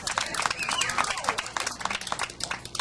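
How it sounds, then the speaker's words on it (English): A gathered audience at a border-security event bursts into brisk, close applause, with many hands clapping rapidly over a murmur of voices, the burst lasting a few seconds. "A big round of applause for all the folks who are willing to climb over the fence and document the smuggling trails"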